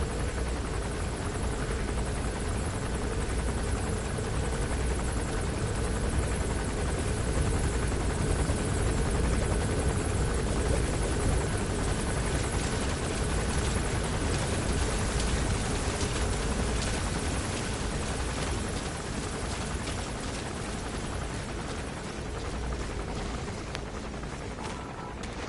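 Helicopter in a video game, its rotor roaring loud and steady the whole time, a dense, continuous thrum with no talk over it.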